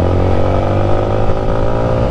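A group of scooters and motorcycles, including models like the Yamaha NMAX, Mio Sol and Honda Beat, rides past close by, their engines forming a loud, steady droning roar with rattling undertones throughout.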